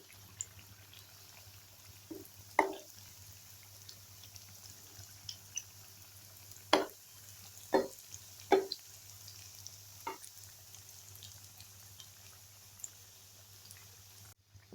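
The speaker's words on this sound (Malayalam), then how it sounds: "ഫ്രൈ ആവട്ടെ. ഇതൊന്ന് മറിച്ചിട്ട് കൊടുക്കാം." Bread snack pieces fry in hot oil, with scattered soft pops and crackles at irregular intervals over a faint low hum. The sizzle stays quiet and distant throughout.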